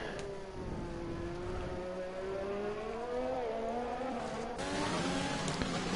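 The Renault/Alpine Formula 1 car from the F1 2021 video game, heard onboard at Azerbaijan: a steady, high-revving engine whine that rises and dips through gear changes, loud and close throughout.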